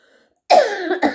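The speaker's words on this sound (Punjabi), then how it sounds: "ਬੜੀ ਖਾਂਸੀ ਹੋਈ ਹੈ, ਖਤਮ ਨਹੀਂ ਪਈ ਹੁੰਦੀ।" A single harsh cough bursts out close and loud after brief near-silence, followed a moment later by a shorter second cough, with no talking over it.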